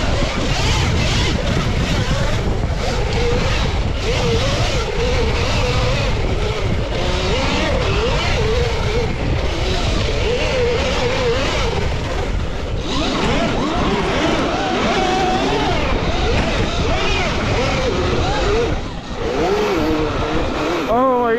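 An Ultra Bee and a YZ450 converted to electric dirt bikes race on sand, a loud continuous whine with wavering pitch, buffeted by wind noise on the microphone.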